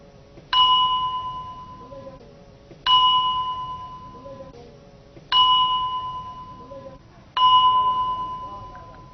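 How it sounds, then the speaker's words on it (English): A temple bell at Hung Temple in Vietnam is struck four times at slow, even intervals, each strike a clear ringing tone that lingers and fades, loud and close. "Now I ring this bell to call back the 6th Hom King."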